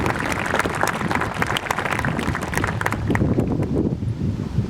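A crowd at a high school graduation ceremony claps loudly and densely, a continuous close roar of hands with gusts of outdoor wind noise across the microphone, easing slightly near the end.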